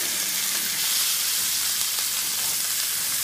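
A steak sizzles in a hot pan just after being flipped, a steady bright hiss of frying that stays loud and even throughout, with no voices.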